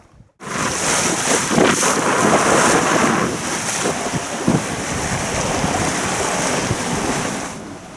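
Loud wind rushes over a sailboat at sea near the islands off the Italian coast, a continuous gusty roar starting abruptly and holding steady with no voices.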